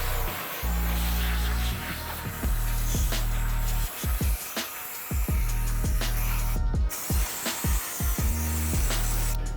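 An air hose blows inside a car during interior detailing, giving a loud, steady hiss in repeated bursts with short breaks between them.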